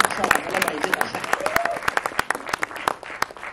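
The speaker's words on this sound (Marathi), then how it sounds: "टाळ्या इतक्या जोरात वाजल्या नाही" Audience at a Marathi film trailer launch event applauding: a close, dense burst of clapping with sharp individual claps, fading toward the end as the crowd thins out, with voices mixed in.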